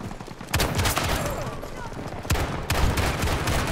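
Desert Eagle pistol fire in a video game, a few sharp, loud shots spaced apart over dense game noise and background sound.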